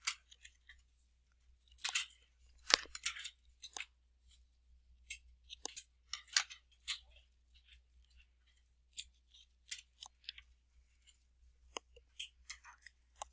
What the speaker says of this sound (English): I've got some extra tape, so I'm going to be folding that or trimming it off.